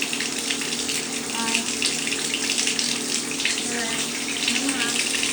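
Running water pours steadily over a dog being bathed, a continuous gushing wash of tap water with faint voice fragments underneath.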